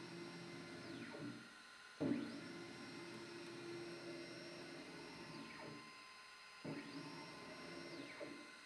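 Rebuilt laser engraver gantry moving, a faint motor whine that sweeps up and down in repeated passes, with soft clicks as each stroke reverses over a low background hum.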